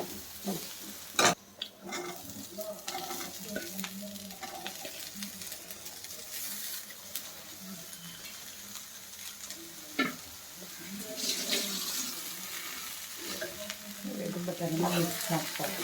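Peas stirred in a frying pan at a wedding kitchen, a soft continuous sizzle with scraping stirs and occasional utensil clinks, faint voices in the background.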